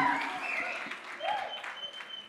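An audience claps at a comedy mimicry show, a steady wash of applause that thins out toward the end, with a voice faintly heard over it.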